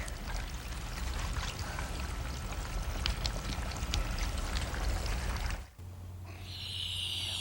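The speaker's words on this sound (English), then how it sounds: "So it's kind of fun to have a bubbling column of universal" Dry ice bubbles in a column of universal indicator, a continuous gurgling, fizzing churn of liquid up close, then a brief dip before quieter bubbling resumes.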